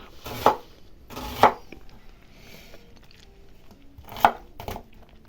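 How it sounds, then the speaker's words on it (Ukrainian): Onions are chopped with a knife on a board: a few sharp, widely spaced cuts land near and fairly loud, with quiet kitchen noise between them. "Цибулі чимало кришимо"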